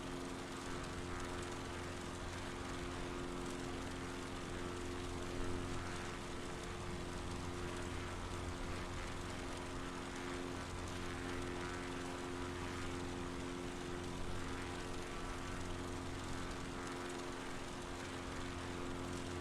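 Steady, droning propeller engine of a Cub Crafters X Cub light aircraft in Microsoft Flight Simulator 2020, a continuous buzzing hum with a stable pitch that fills the whole stretch without pause.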